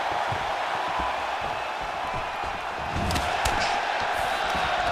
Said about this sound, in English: you hear the crowd react every time they look like it did stun him a little bit